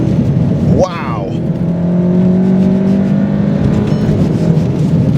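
Volkswagen Golf GTI Clubsport engine pulling hard under acceleration, a steady loud drone with rising tone, close up, with a person exclaiming briefly near the start.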